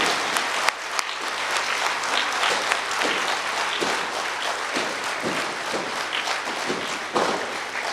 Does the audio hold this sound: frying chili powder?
no